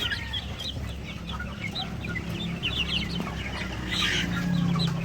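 Chicks on a farm cheeping in a steady chorus of short high peeps, with an adult hen clucking low underneath and a louder burst of calls near the end.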